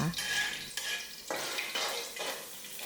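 Hissing sizzle of garlic frying in hot oil in a wok, with several stirring scrapes that come and go in bursts.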